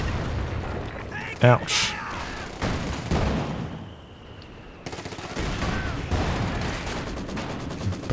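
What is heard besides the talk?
heavy mortar fire in video game Company of Heroes 2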